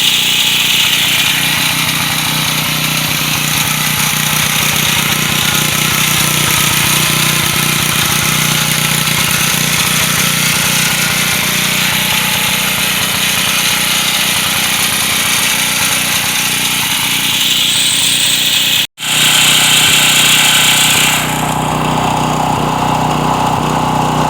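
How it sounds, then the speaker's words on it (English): A cheap second-hand portable generator runs steadily on a driveway, a loud continuous engine drone with a buzzing mechanical rattle, cutting out for an instant near the end before resuming at a slightly changed pitch. "let's get this thing put on the driveway, and you guys can hear it run."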